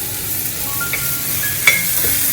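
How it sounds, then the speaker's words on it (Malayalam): Spice powders sauté in a hot tempering for vathal kuzhambu: a continuous, even sizzle up close, with a couple of faint scraping ticks from stirring. "ഇനി ബാക്കിയുള്ള പൊടികളൊക്കെ ഞാൻ ഈ വറവിലേക്ക് ഇട്ട് ഒന്ന് വഴറ്റിയെടുക്കാൻ വിചാരിക്കുകയാണ്"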